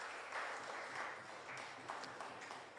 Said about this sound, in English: put your hands together and give a round of applause for our 3 panelists